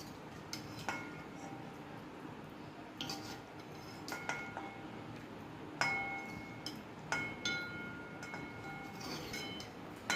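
A spoon scrapes a jackfruit vegetable dish onto a plate in a string of soft, scattered clinks and taps against quiet kitchen background, with no voices.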